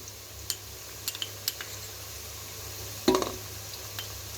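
Ginger and chili paste goes into a pan of fried garlic: soft sizzling runs under a few light metal clinks, then a louder spoon-and-pan clatter as the paste drops in.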